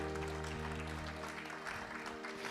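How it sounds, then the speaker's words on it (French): A church congregation applauds and cheers for the Lord in a sustained wash of clapping. A steady musical drone sits beneath it, and the crowd noise stays fairly distant and even throughout. "Est-ce que tu peux acclamer le Seigneur?"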